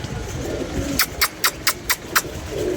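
A fancy pigeon coos in a quick run of six short, evenly spaced calls, fairly close and clear above a soft steady background hum, with no talking.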